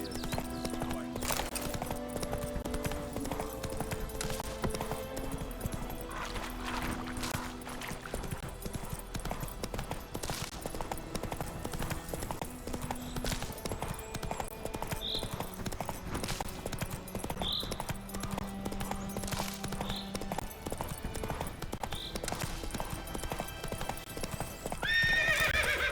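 Roach the horse gallops in The Witcher 3 with rhythmic hoof clip-clops running throughout and a few sharp neighs rising over them, set against game music.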